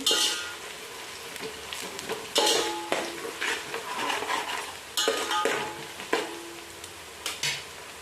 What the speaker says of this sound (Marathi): थोडीशी परतून घ्यायची त्याच्यात नाहीतर ती कच्ची राहून जाते